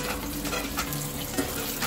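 Pav bhaji with butter and green coriander being stirred in a pan, a steady close sizzle with soft scraping strokes running evenly throughout.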